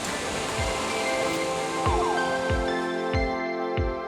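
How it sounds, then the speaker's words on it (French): A waterfall roars loud and steady right beside a canyoning rappel, a dense continuous rush of falling water with a few low knocks and thuds mixed in, and no talking. "Surtout que tu as la cascade juste à côté"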